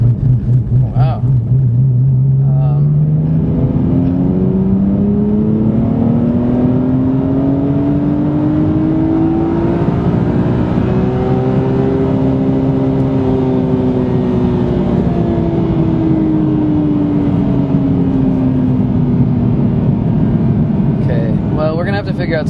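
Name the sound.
car engine accelerating at full throttle in third gear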